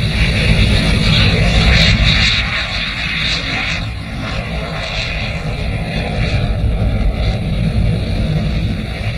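Jet aircraft approaching to land on an aircraft carrier, a loud continuous engine roar with a broad rumbling low end and a steady high whine, sustained throughout and swelling slightly near the start, with no clear voices.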